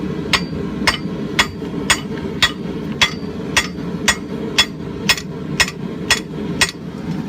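Blacksmith forging a rounding hammer with a cross peen, steady ringing hammer blows landing about every half second on hot steel, over a constant roaring forge or blower hum.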